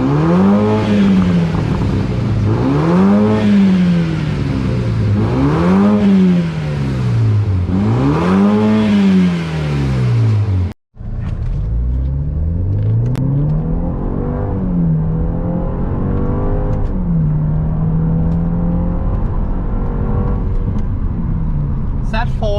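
Repeated deep revs from a BMW Z4 with a Euro Arts aftermarket exhaust rise and fall in steady waves, cut by a brief silence, then lighter revs and blips continue at close range.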